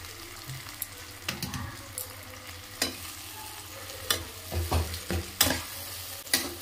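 Mashed eggplant and tomato stirred into fried onions in a hot pan for begun bharta, with a soft ongoing sizzle and intermittent scraping, knocking strokes of a spoon against the pan.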